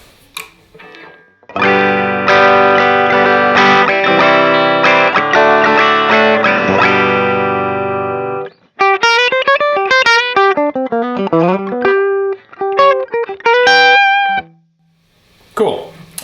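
A Les Paul played on its DiMarzio Air Classic bridge pickup through a Dr. Z Maz 38 amp rings out with bright, sustained strummed chords. Quick single-note melodic phrases follow, then a brief silence and a final stab.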